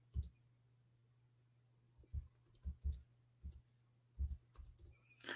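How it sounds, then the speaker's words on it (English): Soft, irregular clicks of fingers typing on a computer keyboard come in short bursts separated by pauses, close but faint over a low steady hum. "No, I'm typing in Arabic."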